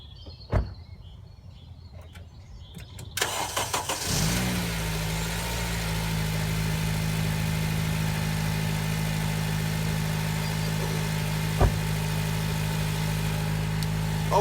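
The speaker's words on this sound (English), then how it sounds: "that engine started absolutely fine, it didn't struggle, started on the button" Honda Civic FN2 Type-R engine cranks briefly, catches and settles into a steady, even idle that holds close and clear for over ten seconds, with a faint clunk near the end and no talking.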